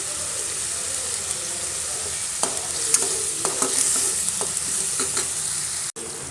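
Steady sizzling of chopped chilies frying in a pan with ginger and garlic, with scattered scraping and clinking as they are stirred, continuous and close.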